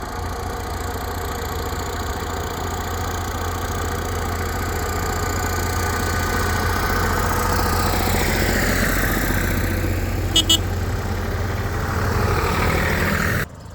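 A 1962 IMT 533 tractor engine runs steadily and loud close by, a continuous low diesel thrum with a brief sharp click near the end before it cuts off.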